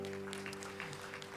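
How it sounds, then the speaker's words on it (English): A church congregation claps hands during a celebration service, a brief steady patter of applause heard faintly under a low electrical hum. "Let's give the Lord a hand clap in Jesus' name."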